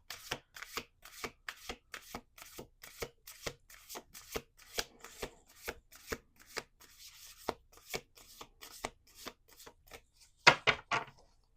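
Cards are riffled close by in a steady series of sharp papery snaps, finished with a brief loud burst as the deck is squared.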